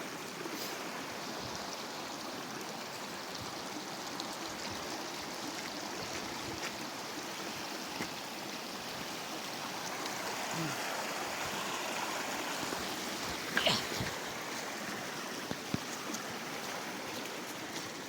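A mountain stream in the Appalachian mountains rushes and burbles steadily at close range, a continuous broad wash of flowing water with a few faint knocks and footsteps near the end.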